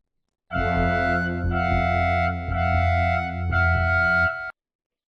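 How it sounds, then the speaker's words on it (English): A heavy, distorted synthesized alarm drone pulses four times in a steady rhythm, loud and harmonically rich, then cuts off abruptly; the restricted territory warning stinger in Assassin's Creed Black Flag. "So it would be accompanied by this stinger."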